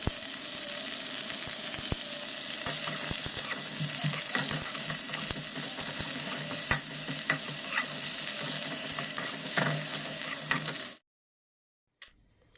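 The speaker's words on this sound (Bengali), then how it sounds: "আজকে কিচ্ছু করব না, করব নিম পাতা ভাজবো" Neem leaves fry in a pan with a steady, close crackling sizzle and occasional scraping stirs, continuing for about eleven seconds before cutting off into near silence.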